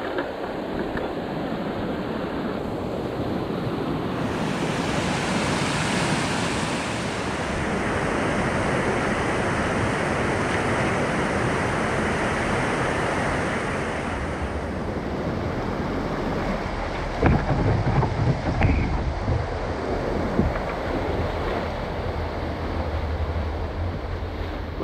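On a remote river, water rushes over a ledge into a chute in a loud, continuous broadband roar that swells and shifts, with gusty rumbles and a few knocks near the end, and no voices.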